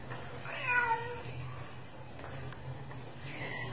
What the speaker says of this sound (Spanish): Acá tenemos este otro gatito